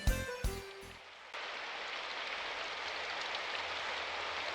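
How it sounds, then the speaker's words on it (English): Rain falling on a cobblestone street in a game scene, a steady broadband hiss of drops that sets in after a few brief sharp tones at the start and holds evenly to the end. "The first thing I heard when I got outside was the rain hitting the cobblestone street."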